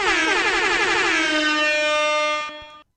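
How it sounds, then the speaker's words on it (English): A single loud air horn blast, bright and brassy, holds steadily for over two seconds and then cuts off, with nothing else around it. "Oh, yes, air horn."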